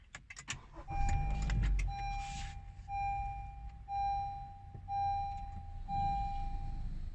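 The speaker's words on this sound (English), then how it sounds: "Let me start the car." A Honda car started with a keyless access fob: a brief low engine crank early on, followed by a clear electronic chime repeating about once per second over a quiet idle.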